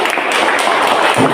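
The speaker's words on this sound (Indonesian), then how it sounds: "tepuk tangan." Short burst of loud, close clapping from students in a classroom after a poem reading, a dense patter that stays even across the brief moment.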